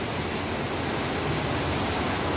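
River swollen by heavy monsoon rain beside the Maruti temple in Dapoli, a constant broadband rushing roar of water, steady and unbroken with no voices.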